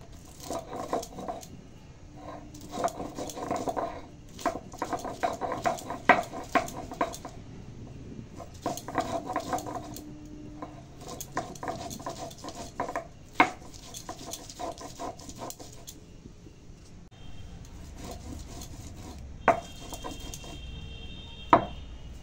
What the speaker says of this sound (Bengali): এখন কাঁচা লঙ্কা আর আদা বাটবো।